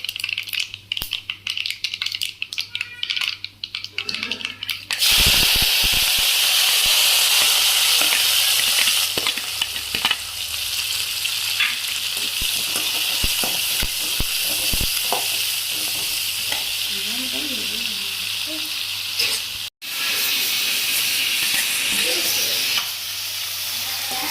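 Green chilli, curry leaves, garlic and onion drop into a hot pan and burst into loud, steady sizzling with stirring scrapes, following a quieter stretch of handling noises at the start.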